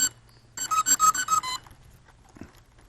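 A 40 amp electronic speed controller in a brushless-converted Super Cub RC plane chirps its startup tune, a quick run of five or six close electronic beeps followed by a faint click.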